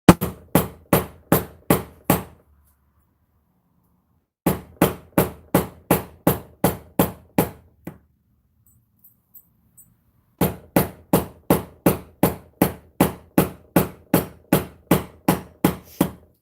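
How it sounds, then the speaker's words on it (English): Metal being hammered flat on a hard surface in a craft room, loud sharp strikes in steady rapid bursts of about ten blows each, separated by pauses. "we're going to lay this down and just hammer it till you're happy"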